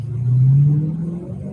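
A car engine revs loudly and up close in a steady low rumble that rises and falls over about a second and a half, with no voices over it.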